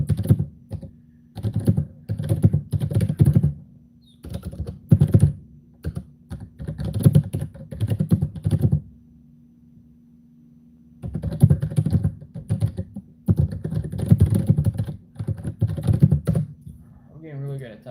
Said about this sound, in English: I'm getting really good at typing.